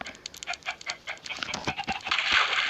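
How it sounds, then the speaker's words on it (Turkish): Several chickens cluck and chatter nearby in short, irregular bursts, with soft background noise and no talking. "Bu tavuklarımız."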